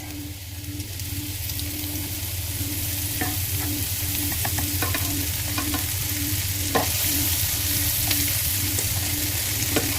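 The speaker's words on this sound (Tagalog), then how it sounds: "we're going to add again our butter. This is also to fry our egg." Butter sizzles and fries steadily in a pan, heated to cook an egg for an omelette. The constant close sizzle runs throughout, with light scattered ticks and pops.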